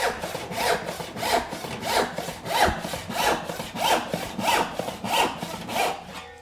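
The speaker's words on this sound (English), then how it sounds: "Let the weight of the saw do the work." Handsaw cutting Baltic birch plywood in steady, even back-and-forth strokes, about a dozen rhythmic rasping pulses, close and clear with no talking.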